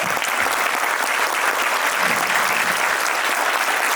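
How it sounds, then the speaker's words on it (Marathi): A standing audience at a public event claps loudly, a dense, steady wash of applause that holds at full strength throughout. "सगळ्यांनी टाळ्या वाजून त्यांना अभिवादन करायचं जोरदार टाळ्या होऊन जाऊ द्या"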